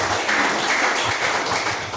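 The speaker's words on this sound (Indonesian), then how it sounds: "tepuk tangan untuk Romo Fajar." An audience in a Catholic parish applauds a priest with steady, dense clapping that carries on without pause.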